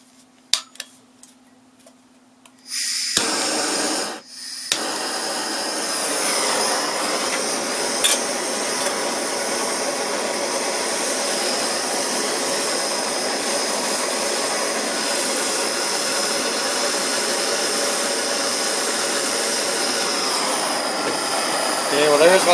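A propane torch heats aluminum for low-heat rod welding: after a few quiet seconds it lights with a sharp burst, then roars loud and constant for the rest of the clip, with brief talk at times.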